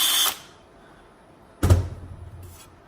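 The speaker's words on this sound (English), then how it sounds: "you'll be able to take your drill" A power drill whirs in two short bursts and then a brief third, close and loud, as holes are drilled through the back for a license plate light on a Datsun 240Z, with quiet pauses between.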